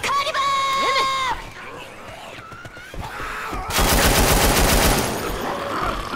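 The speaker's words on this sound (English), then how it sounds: "What is up with you shooting me?" Gunfire in the Left 4 Dead 2 video game: rapid bursts of automatic shots, loudest in a dense volley partway through, mixed with other in-game effects and cries.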